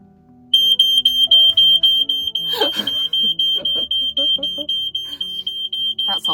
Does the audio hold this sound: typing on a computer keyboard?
no